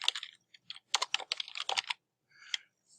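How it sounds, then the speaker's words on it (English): Keystrokes on a computer keyboard typing a city name, quick irregular clicks in short bursts with pauses, close and fairly quiet, no voices. "I'll type the city name"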